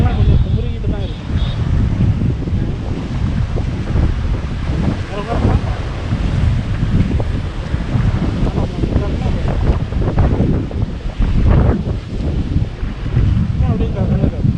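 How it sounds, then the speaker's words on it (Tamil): Ocean waves surge and churn at Kanyakumari beach, with steady wind buffeting the microphone. The roar is loud and continuous, with people talking over it the whole time. "அலையெல்லாம் கொஞ்சம் குமுறிக்கிட்டு தான் இருக்கும்."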